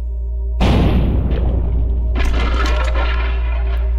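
A loud shotgun blast in the video game Buckshot Roulette, a single sudden boom that cuts in after a short quiet hum and then fades into a long ringing tail.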